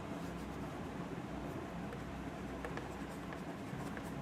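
Marker or chalk scratching across a board during a chemistry lesson on eudiometry, a soft continuous scrawl with light tapping strokes, fairly quiet and without talk.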